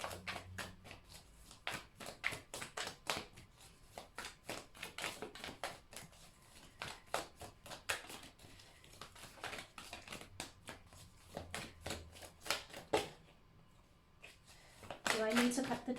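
A deck of tarot cards shuffled by hand, a steady run of quick riffling flicks and taps, close and soft, pausing briefly near the end before a louder shuffle, with a voice speaking intermittently between.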